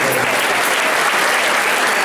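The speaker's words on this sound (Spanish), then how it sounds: "Fuerte aplauso." A brief, steady burst of strong crowd clapping at an institutional award ceremony in Rosario, loud and continuous throughout.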